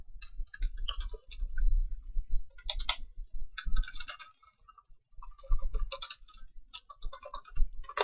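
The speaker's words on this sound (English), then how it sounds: "So when I'm typing, it feels so nice." Typing on a ThinkPad T420 laptop keyboard, close-up clusters of quick soft key clicks in bursts separated by brief pauses, with light thumps beneath.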